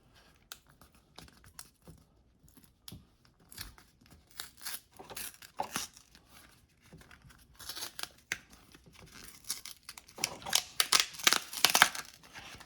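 Plastic and cardboard packaging of an EIOTClub SIM card being opened up close, with a busy run of crinkling, tearing and clicking handling noises that grow louder and denser toward the end; no voices.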